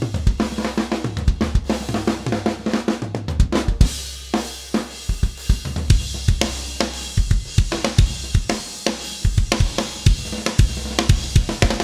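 Dry drum mix in its raw balance, with no SSL processing, added samples, saturator or reverb: sharp, punchy hits and a deep kick land in a steady groove, with no voices.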